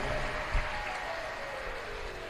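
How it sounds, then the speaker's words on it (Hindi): An audience at a Shiv Mahapuran katha, a Hindu religious discourse held during Kartik month in Kosi Kalan, Mathura, breaks into steady, dense applause that fills the whole stretch at a moderate, somewhat distant level. "एक बार जोरदार ताली बजाकर"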